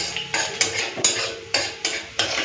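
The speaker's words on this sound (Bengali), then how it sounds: "দিয়ে দিচ্ছি কালো জিরে ফোড়ন একবার নেড়ে চেড়ে কালো জিরেটাকে একটুখানি ভাজা ভাজা করে নেব" Nigella seeds fried and stirred in hot oil in a pan, heard as a close run of regular scraping strokes from a spoon against the pan, roughly every half second, over a faint background sizzle.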